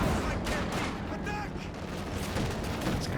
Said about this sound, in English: it's the anti-infantry strafe from the close air support